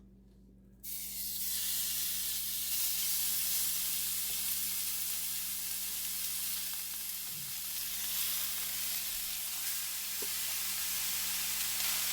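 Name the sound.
ground turkey frying in a heated skillet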